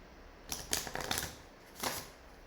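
An oracle card deck being shuffled, a few quiet close riffles and papery slides in two short bursts separated by a pause, faint against a soft background.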